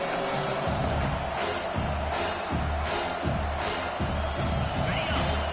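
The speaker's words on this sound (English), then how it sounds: "Decibels rising as the crowd gets behind this defense on 3rd down" A college football stadium crowd at BYU at Washington roars on a third-down defensive play, with a sustained loud din and repeated thumps and bangs pounding through it.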